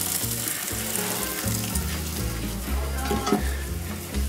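Olive oil sizzles and crackles in a pan on a wood stove, a dense, close frying hiss with a rhythmic low thumping underneath, no talking.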